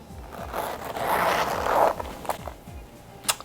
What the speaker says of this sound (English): gotta do the zipper test